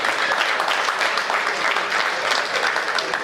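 An audience at a Hindi comedy poetry show claps together in dense, steady applause, loud and continuous with a few faint voices in the crowd.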